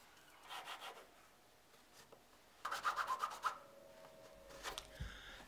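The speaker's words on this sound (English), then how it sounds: "push the cloth against the edges of the board and then rub towards the centre" A bone folder rubs book cloth down onto grey board in quiet, scraping strokes that come in short bursts, with one firmer run of rapid rubbing midway.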